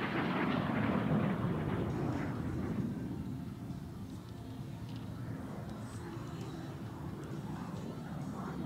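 A vintage T-33 Shooting Star jet trainer makes a pass at an air show, its broad roaring rumble loudest at first and then easing into a steady distant drone.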